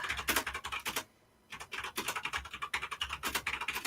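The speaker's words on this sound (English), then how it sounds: "Sorry, it's a very clacky keyboard." Fast typing on a clacky computer keyboard, a dense run of crisp close keystrokes with a brief pause near the one-second mark before the clatter resumes, with no voices.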